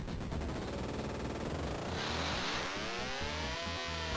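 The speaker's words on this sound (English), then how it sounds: "That was a missile" A missile launches in the 1987 Bally/Midway Spy Hunter II arcade game, a loud roaring whoosh that swells after a rattling electronic engine drone and then throbs on under chunky synthesized game sound.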